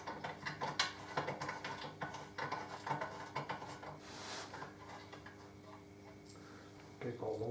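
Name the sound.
ratchet spinning out bolts on Harley Davidson Deuce trike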